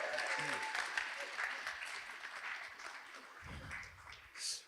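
A mental health seminar audience breaks into applause, a sustained spread of clapping from many hands that slowly tapers, with a few voices rising near the end.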